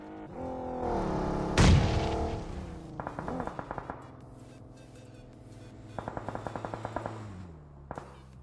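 Video game gunfire during a live tournament match: a loud single blast, then rapid bursts of automatic fire at a moderate distance over a droning engine hum, with no talk.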